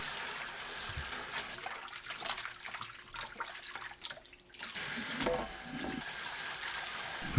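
Water is squeezed by hand from pumpkin leaves that were salted and rinsed. The result is a close, continuous wet trickling and dripping that eases briefly, then swells again.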